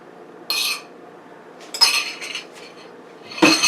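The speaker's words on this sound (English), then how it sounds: "I always mix my eggs separate in a separate bowl in case I get any shells or something" A single egg is mixed in a separate bowl, with three short bursts of clinking as the utensil knocks the bowl, close and alone.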